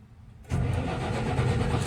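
A truck engine cranks and catches after a short quiet lead-in, then settles into a loud, steady rumbling idle close by, with no voices over it.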